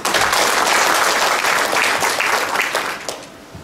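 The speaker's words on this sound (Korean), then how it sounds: "여러분 환영의 박수를 한번 부탁드리겠습니다." Attendees at a Korean automotive cluster project report meeting applaud to welcome the advisory committee, a loud, dense burst of clapping that holds steady and then fades near the end.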